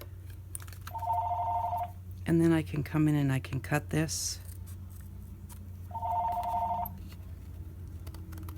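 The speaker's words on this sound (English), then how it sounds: "Excuse the phone, I won't answer it, I'll check it in a minute." A telephone rings in two separate bursts a few seconds apart in a home craft room, while a person speaks between the rings over a steady background hum.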